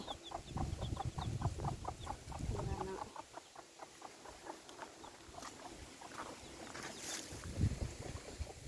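Chickens clucking close by in a rural Thai yard, a quick run of repeated clucks up front, then quieter intermittent calls over faint background noise.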